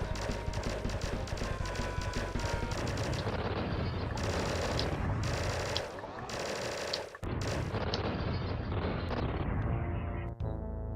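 Rapid, dense explosions and bullet blasts from Bob-ombs and Bullet Bills in the video game I Wanna Be The Guy, loud and continuous over game music, with brief gaps before cutting off near the end.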